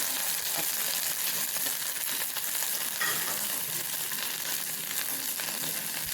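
Mustard seeds, curry leaves and green chillies crackle and sizzle in hot oil for a Gujarati dhokla tempering, a steady dense frying hiss with sharp popping spits throughout, close and fairly loud, with no talking.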